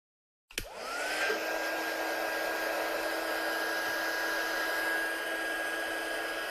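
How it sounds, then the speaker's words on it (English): An electric heat tool blowing over pearly paste on a craft card, a steady close whooshing hum that switches on abruptly and runs unbroken, with no talking. "I'm just going to run my heat tool over that paste."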